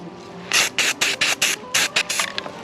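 Undercoating sprayed over primer on hockey sticks, heard as a series of short, close hissing bursts from a spray can in quick succession, with no voices.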